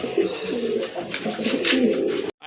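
Pigeons cooing close by, a steady run of soft, throaty low coos that continues for a couple of seconds before cutting off.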